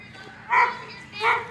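Dog barking in a suburban neighborhood during a walk, two short barks at moderate distance with faint background noise between them.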